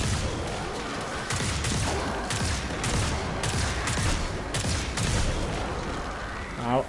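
Repeated hand cannon gunfire in the Destiny 2 video game cracks in a steady rhythm of rapid shots over a dense, noisy background of game effects, fairly loud throughout.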